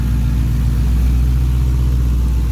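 A D-badged Dodge Hellcat V8 rumbles loudly up close, a deep, steady, throaty engine note that holds constant through the short stretch with no voices.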